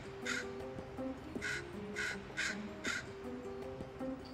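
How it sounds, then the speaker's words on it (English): A young crow gives a tentative scolding call outdoors, a series of about seven short harsh caws spaced through the clip, moderately near, with no talk over it. "To many, just the tentative scold of one young crow."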